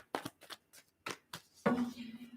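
Tarot cards shuffled by hand close up in a series of quick, crisp riffles and slaps with short pauses between them, ending in a longer rustle.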